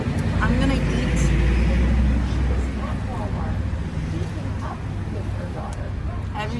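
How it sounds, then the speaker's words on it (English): A car passing on a street outside a Korean restaurant and bar, a broad low rumble swelling then easing, with a voice talking over it. "every single time a car passes"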